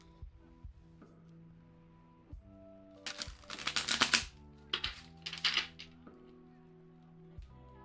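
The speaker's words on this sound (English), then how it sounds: "I think she needs one more shuffle." A deck of tarot cards gets shuffled in two quick, crisp riffling bursts, fairly close and with no talk over them.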